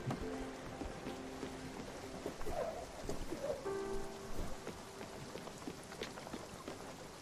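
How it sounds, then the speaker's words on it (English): Rain falls steadily in the video game Spiritfarer, a dense patter of raindrops layered with faint musical tones and a low distant rumble. "It's raining."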